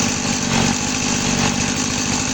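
A Stihl 180 chainsaw engine idles nearby with an even, buzzing two-stroke putter that stays loud and steady throughout, with no one speaking.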